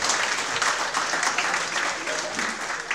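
A crowd applauding at a winter sports grant presentation in a brewery, dense clapping that swells and holds for a few seconds, with a voice faintly audible beneath it.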